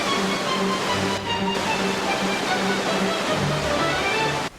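A waterfall formed by erosion roars as a steady broadband rush of falling water, loud and continuous with a brief dip, and no talk over it.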